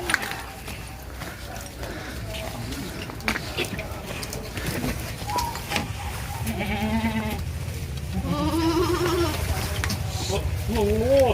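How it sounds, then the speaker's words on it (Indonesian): A healthy goat being shown for Eid sacrifice bleats several times in wavering, nasal cries, mostly in the second half, over steady outdoor background noise and someone talking nearby. "Ini kambing nih, kambingnya termasuk kambing yang sehat."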